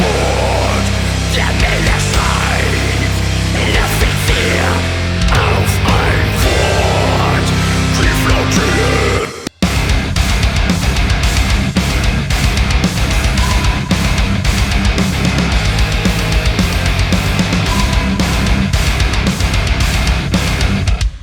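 Driftwood and HM2 distorted guitar tones layered together blast a fast, dense metal riff, loud and relentless, with a brief gap partway through before resuming.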